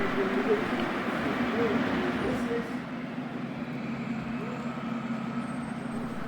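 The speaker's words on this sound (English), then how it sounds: "visitors can enjoy an impressive large-scale Scale 1 model railway" Large-scale Scale 1 model trains, including models of a Class 38, a Class 18 and a V200, run on a layout in an old locomotive shed at Neustadt Railway Museum. They produce a continuous low rolling rumble with a murmur of indoor background noise.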